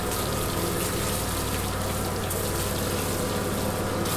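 An egg masala gravy boils vigorously in a pot, giving a close, loud, unbroken bubbling and gurgling with no voices.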